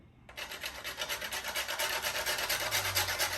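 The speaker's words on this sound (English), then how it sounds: "I'm gonna go ahead and grate my nutmeg into this mixture" Whole nutmeg grated by hand on a kitchen grater for a Guyanese coconut pineapple bun filling, a close, steady rhythmic rasping of quick back-and-forth strokes with no talking.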